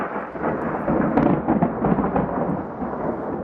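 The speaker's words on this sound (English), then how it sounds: "Skies rumbled over San Diego County Wednesday as a storm moved through the area" Thunder rolls over San Diego County during a storm that brings heavy downpours, a loud, sustained rumble with surging peaks and rain hiss underneath, with no voices.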